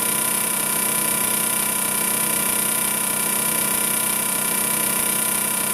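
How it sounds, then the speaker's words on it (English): A Twister T4 trimmer runs with its blades switched on, giving a steady, unbroken mechanical buzz and high whine at a constant level, close by, with no voices. "Plug your T4 in and turn on the blades."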